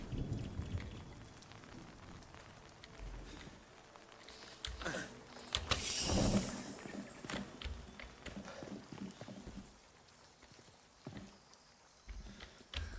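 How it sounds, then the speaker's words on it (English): Rain falls steadily in the video game Nightingale, a soft continuous patter with a brief louder swell midway, heard alongside game sounds that include what may be distant thunder. "it has not stopped raining yet."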